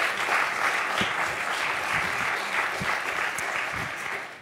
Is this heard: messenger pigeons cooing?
no